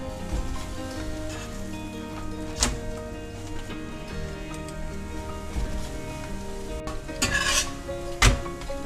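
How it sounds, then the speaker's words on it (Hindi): A wheat-flour lachha paratha cooks in oil on a pan with a steady close sizzle, punctuated by a few sharp scraping or stirring clicks and brief louder bursts as it is pressed and turned; no one speaks. "मैं ये पराठा तेल में सेक लेती हूँ।"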